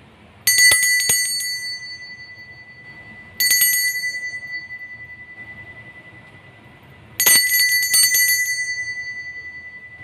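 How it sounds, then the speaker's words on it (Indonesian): A bright bell rings three times, each sharp ring decaying slowly with gaps of a few seconds between, alone in quiet surroundings. "kita akan mulai saja melanjutkan dengan ditandai lonceng berbunyi"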